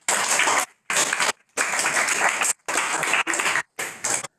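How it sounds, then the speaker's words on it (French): Bursts of applause from a group, loud and close, coming in several clapping waves separated by brief silences. "On va faire un grand applaudissement."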